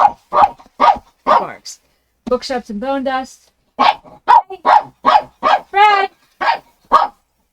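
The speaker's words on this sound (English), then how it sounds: "He barks." A pet dog barks in short, loud, repeated bursts indoors, the sharp yelps falling in a steady rhythm on both sides of a brief spoken line.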